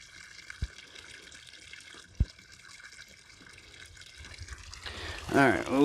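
Water trickles quietly from a drip irrigation line being winterized outdoors, a soft running flow with a couple of faint knocks, before a person starts talking near the end.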